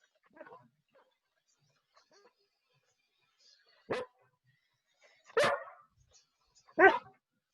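Riley the dog gives three loud, sharp barks spaced a second or so apart, with faint rustling and quiet sounds between them.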